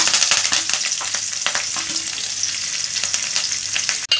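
Curry leaves and green chilies dropped into hot oil with cumin seeds, crackling and sizzling loudly and continuously up close, with a sharp final pop near the end.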